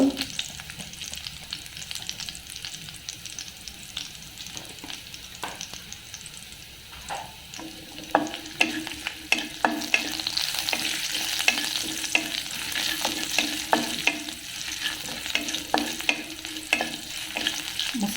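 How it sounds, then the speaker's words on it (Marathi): Spices for a phodni tempering sizzle in hot oil in a pan for Maharashtrian buttermilk kadhi, a steady frying hiss broken by sharp clicks and scrapes of stirring that grow busier in the second half. "थोडस थोडंसं परतून घेतो फोडणी आपली खमंग झाली पाहिजे"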